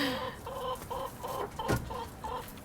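A hen sitting on a nest of eggs in an urban backyard homestead coop in Oakland gives a run of soft, rhythmic clucks and murmurs close by, broken once by a brief louder rustle.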